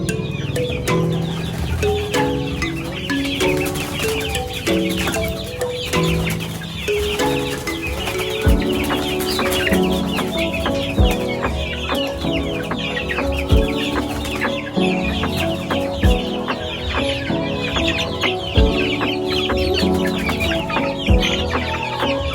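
About 23 chicks and older chickens being released into a new homestead coop, clucking and peeping continuously with layered overlapping calls, close and busy, with scattered wing flaps and scuffles.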